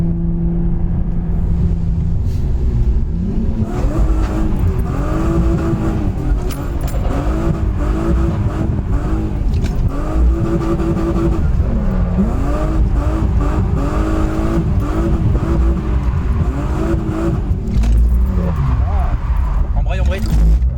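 A BMW E36 accelerates hard around a race track, the engine rising and falling through gear changes and steady revs, loud and close from inside the car while people talk over it.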